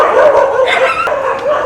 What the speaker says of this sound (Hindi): अब ये इस वजह से भौंकने लग गए हैं